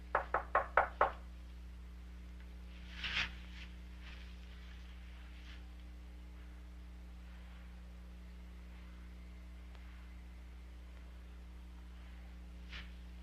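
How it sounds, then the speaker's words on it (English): Five quick, firm knocks on a door in a tight rapid burst, followed by a single duller thump and then near silence over a low steady hum. "was so cold that she finally gained enough courage to knock on my door"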